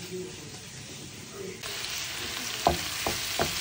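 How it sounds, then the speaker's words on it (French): Onions sautéing in a frying pan, a soft crackling sizzle that grows brighter partway through, with a couple of distinct utensil knocks against the pan, close and fairly quiet. "je fais revenir mes oignons dans la même poêle"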